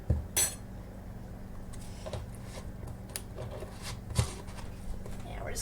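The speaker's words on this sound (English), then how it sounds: "we're just going to stir that in real good" A spoon stirs food coloring dye into water in a container, with soft, irregular clinks and scrapes under a low background hum; a louder clink lands near the start and another around the four-second mark.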